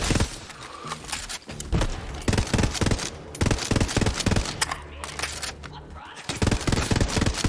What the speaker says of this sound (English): It comes with burst fire mode only and has a fast fire rate and almost 0 downtime in between bursts